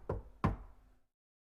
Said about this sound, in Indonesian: mulai mengetuk-ngetuk lantai kayu